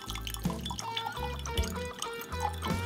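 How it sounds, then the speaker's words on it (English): Clyde May's Straight Rye whiskey poured from a bottle into a glass, a steady gurgling, glugging trickle across a few seconds, close and fairly quiet. "so here we go with a little pour here"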